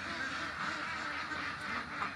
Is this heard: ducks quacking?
yes